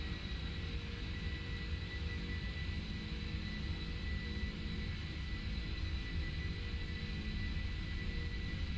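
Jet engines of a PMDG 747-400 in Lufthansa livery spooling up for takeoff at Frankfurt in the P3D flight simulator, a steady, loud, broadband roar with a high whine that holds unbroken throughout.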